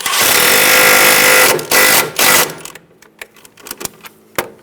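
Bolt on the brake line bracket of a 2010-2014 Subaru Outback snugged down with a power tool: loud continuous buzzing bursts of rattling ratchet noise, then a string of sharp separate clicks and taps.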